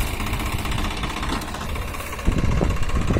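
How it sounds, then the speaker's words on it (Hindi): A Swaraj 744 XT tractor hitched to a trolley loaded with wet dung manure idles nearby, a steady, dense diesel chug that grows slightly rougher toward the end. "स्वराज शेर ट्रैक्टर है किसान मित्र"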